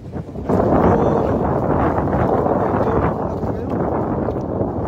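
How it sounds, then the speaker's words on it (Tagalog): Strong wind at night on a village riverside, gusting loudly and roaring across the microphone in a dense, continuous rush after a brief quieter start. "Malakas kasi yung hangin."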